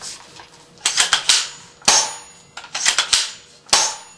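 Sharp mechanical clicks and clacks in two quick bursts as the bolt of an A&K SVD airsoft sniper rifle is worked back and forth, close and crisp.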